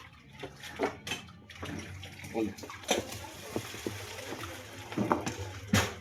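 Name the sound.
pouring boiled broth out of a pot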